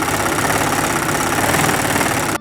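A sewing machine stitching trousers gives a steady, loud motor whir with a fast rhythmic needle chatter that runs continuously and stops abruptly at the end.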